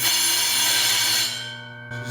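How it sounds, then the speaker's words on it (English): Sharpening stones grind and polish the blade of a KWS meat slicer, a steady bright rubbing hiss over the motor's hum that lasts a couple of seconds before easing off, with the machine still running near the microphone. "squeeze both of them together to clear any burrs and just kind of polish the blade off"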